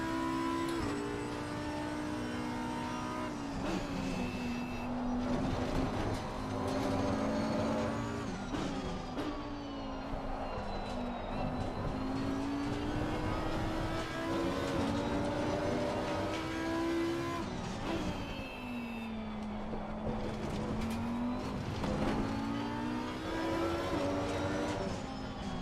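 A GT race car in Assetto Corsa Competizione drives a lap, its engine rising and falling through repeated cycles of hard acceleration out of corners and braking into the next. The close, loud engine note is steady and continuous, with no voices over it.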